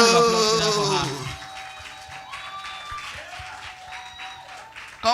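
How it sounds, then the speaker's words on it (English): Audience clapping at a business and career expo award ceremony, a loud burst at the start that quickly fades into a sparse patter, close by, with brief voices and cheering mixed in. "A round of applause for her."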